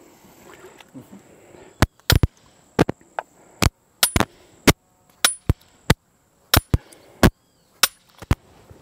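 A hammer strikes repeatedly in a bog, sharp loud cracking blows that come in irregular pairs and singles with short pauses, close by against quiet outdoor background.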